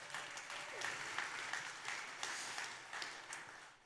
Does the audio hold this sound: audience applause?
yes